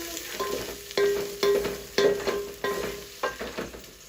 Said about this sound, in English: Then we're going to add in our ginger and garlic. Then we give that a good stir.